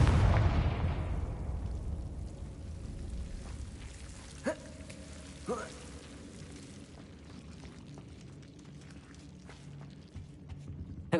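Confringo explosion spell cast in the video game Hogwarts Legacy, a loud blast at the start that fades into rumbling debris, followed by a couple of sharper, smaller bursts and faint scattered crackles.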